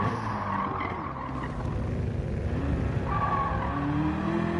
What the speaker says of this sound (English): I want to see how much you rev it out.